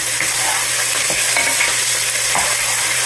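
Garlic fries in a pan while being stirred, producing a loud, dense, continuous sizzle close up, with soft scraping strokes of the utensil scattered through it and no voices.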